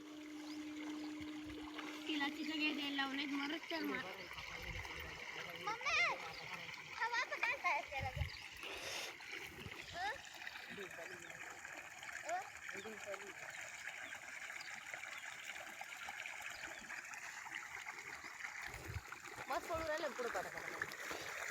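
Water from a pump motor gushes and splashes steadily into a chilli field, a continuous close rushing and trickling with faint voices in the background.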